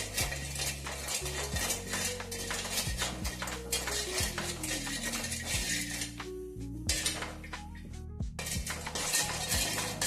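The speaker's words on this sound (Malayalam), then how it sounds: "നമ്മൾ നന്നായിട്ട് ഇളക്കി കൊടുക്കണം" Homemade hair oil is stirred in a metal pot, with a steady stream of metallic clinks and scrapes from the spoon against the vessel, repeated close up over a constant background hiss and no voices.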